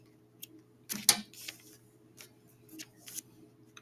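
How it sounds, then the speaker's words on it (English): Scissors snip through sewing thread on a handmade monster craft, giving a few quiet, crisp clicks and snips spaced across a few seconds, close and alone without talk. "cut my thread."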